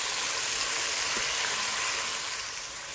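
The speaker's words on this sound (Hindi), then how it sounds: "अच्छे से भून लेंगे इसको।" A steady, dense sizzle of onions frying with garlic ginger paste in a pan, continuous and close, fading slightly toward the end.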